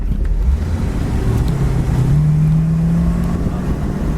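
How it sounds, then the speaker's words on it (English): A 1968 Ford Torino GT convertible slows under braking from about 40 mph, its low engine and road rumble steady and loud with a falling drone and heavy wind buffeting across the microphone. "We're gonna brake here now, 40 mile an hour"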